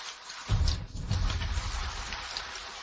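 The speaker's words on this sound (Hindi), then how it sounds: "अब बारिश हो रही है" After a quiet start, rain begins falling in a dense, hissing patter, rising suddenly and then settling into a steady, moderately loud downpour.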